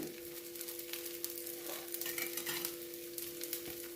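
A rice flour dosa sizzles on a hot pan as oil is poured around its edges, giving a dense, even crackle throughout with a faint steady hum beneath.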